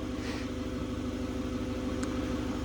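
A forklift engine idles steadily and close by while it lifts the hood and gas tank off a John Deere B tractor, producing a continuous low throbbing rumble with no pauses.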